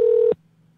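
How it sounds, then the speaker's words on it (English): A phone call being placed: a loud steady dialing tone holds for about a third of a second, then cuts to a faint low hum with no talking. "I'm calling Dr. O real quick"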